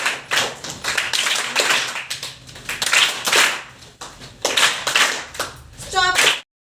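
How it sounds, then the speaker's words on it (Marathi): A classroom group performs a rhythmic shabashki appreciation clap, bursts of many hands clapping together in a quick repeated pattern, close and loud, with brief pauses between rounds. "शाबाशकी टाळी स्टार्ट"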